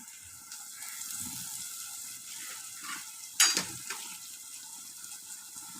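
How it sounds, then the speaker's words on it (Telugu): Onions fry in a pan until reddish with a soft, continuous sizzle, and one brief sharp clink of a utensil rings out midway. "ఉల్లిగడ్డలు ఎర్రగా ఏగిపోయాయి ఫ్రెండ్స్."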